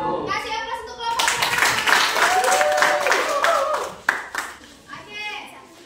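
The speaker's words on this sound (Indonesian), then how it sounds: "Kasih aplaus untuk kelompok." A classroom group receives a burst of clapping from students, several seconds of dense applause with children's voices and talk over it, fading out toward the end.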